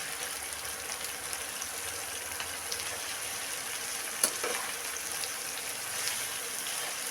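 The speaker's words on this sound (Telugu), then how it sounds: "ఈ చిక్కుడుగాయలకి నీళ్ళు వేయకూడదండి నీళ్ళు లేకుండా ఇప్పుడు మనం వేసిన నూనెతోనే బాగా వేగాలండి" Chopped broad beans fry in oil without water for a rice dish while being stirred. The sizzle is soft and steady with rain-like crackle, broken by one sharp utensil clink midway.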